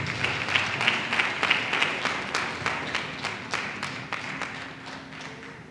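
A small group claps at an anniversary meeting, with close, individually audible hand claps in a loose rhythm that slowly fade in strength over several seconds.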